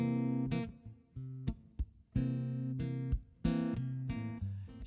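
A guitar strums a blues seventh chord in rock style, a series of close, rhythmic chord stabs with short pauses between them and no talking.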